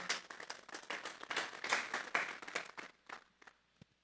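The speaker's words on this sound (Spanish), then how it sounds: "Vamos a darle un fuerte aplauso pues al Señor" Church congregation clapping for the Lord, a dense burst of many hands over roughly three seconds that thins out to a few scattered claps at the end.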